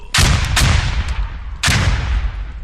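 Heavy gunshots in a close-quarters tactical shooter game set in Al Basrah, three separate loud booming blasts with sharp attacks and rumbling tails, spaced unevenly across a few seconds.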